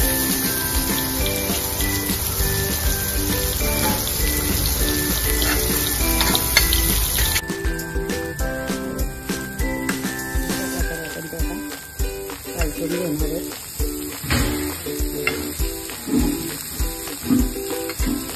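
Food frying in a pan and cooked well on both sides: a loud, steady sizzle fills the first half, then gives way to busier clattering and scraping over continued frying.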